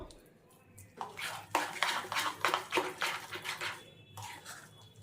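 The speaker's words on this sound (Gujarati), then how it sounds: "તો આને હું બરાબર મિક્સ કરી લઉં" Jowar flour idli batter mixed by hand in a bowl, with a dense run of close wet stirring and clinking scrapes against the bowl for several seconds, then a brief pause and a few more strokes.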